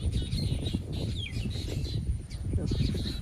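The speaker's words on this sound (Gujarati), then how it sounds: "ચકલાની અવાજ કેમ આવે છે?" Sparrows chirp outdoors in short, fairly faint high calls that repeat irregularly over a low rumbling background.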